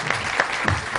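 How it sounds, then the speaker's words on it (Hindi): Brief burst of applause from guests at a wedding celebration, a few hands clapping with light crowd noise, lasting about a second. "तालियां जी, तालियां जी।"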